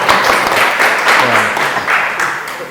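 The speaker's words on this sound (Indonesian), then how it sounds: "Tepuk tangan untuk kita semua." A university teaching-session audience gives a short burst of clapping and applause, mixed with voices throughout.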